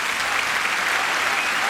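Steady, dense applause from a large tennis crowd fills the stadium at Roland Garros during the 1998 women's final, a continuous loud wash of clapping with no break.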